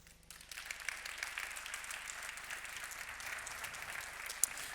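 An audience applauds to welcome a panel speaker at a commercial dispute resolution conference; the clapping is a continuous, fairly soft patter with no talking.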